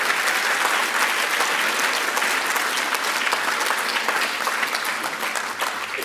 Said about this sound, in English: We have to first and foremost put a round of applause for Friends of Al-Aqsa for putting this